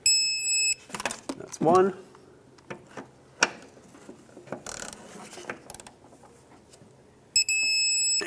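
Electronic torque wrench on the rear shock mount bolts of a 2012-2020 Ford Focus, tightened to 18 foot-pounds: a steady high beep sounds at the start and again near the end, with scattered tool clatter and speech in between.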